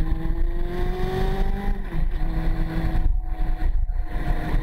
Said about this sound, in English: Let the cars come past